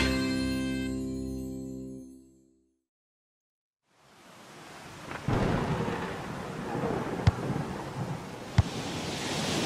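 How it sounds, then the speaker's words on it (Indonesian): Heavy rain pours steadily in a cartoon storm scene with strong wind, broken by sharp cracks of thunder, after a musical passage fades into brief silence. "Di luar sedang hujan sangat lebat dan angin kencang."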